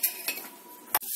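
Onions and spices such as cumin, fennel, pepper, turmeric and chili powder being sautéed in a pan for vegetable spring rolls, with a faint sizzle broken by a few sharp clinks of a metal spoon stirring.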